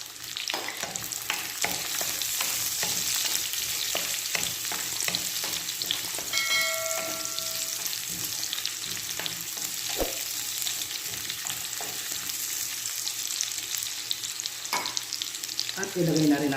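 Onions frying in a pan after garlic, a steady close sizzle with occasional stirring clatter throughout, no talking.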